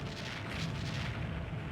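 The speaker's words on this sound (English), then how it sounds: "they're taking gunfire" Naval gunfire in the Jane's Fleet Command game rumbles as a dense, continuous barrage of low booms and bursts, steady and moderately loud with no talk.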